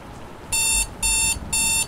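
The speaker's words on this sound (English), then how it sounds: "I almost just did because that stupid alarm clock" An alarm clock rings in a Roblox horror game, giving three evenly spaced, loud electronic beep bursts over a steady low background rumble.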